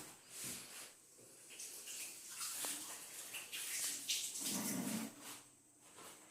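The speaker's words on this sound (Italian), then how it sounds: "un attimo che me lavo le mani" Water from a tap splashes and gurgles over hands being washed in a home kitchen during bread preparation, fairly faint and uneven, with no talking.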